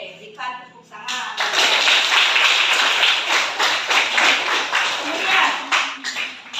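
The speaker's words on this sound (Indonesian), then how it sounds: "Oke, berikan tepuk tangan." Students in a school classroom clap their hands together during a lesson, a dense, steady burst of clapping that starts after a brief pause and continues throughout at close range, with some voices underneath.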